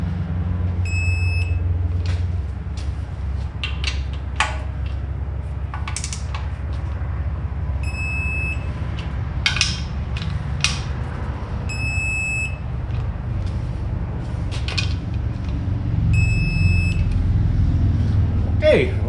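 An electronic torque wrench gives a series of short high beeps as engine bolts on an LS build reach 18 foot-pounds, the beeps spaced apart over clanking tool and ratcheting noises in a shop.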